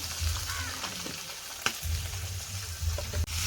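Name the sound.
frying shrimp in a wok with spices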